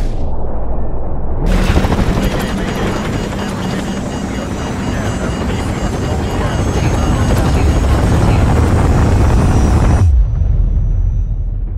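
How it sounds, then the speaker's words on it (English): Incoming missile strike in Call of Duty: Modern Warfare Remastered: an abrupt, massive roaring blast erupts and sustains as a thunderous wall of noise for about eight seconds, then cuts to a low rumbling aftermath. "Incoming missile."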